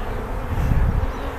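Honey bees at the queen's colony hive during queen rearing, a dense close buzzing swarm that swells briefly louder in the middle, with no voices.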